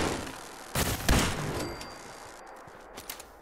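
A few gunshots fired in the Fallout 4 video game, inside Nuka-World's Galactic Zone, sound as short sharp bursts at moderate distance over a low steady game ambience, with no talk.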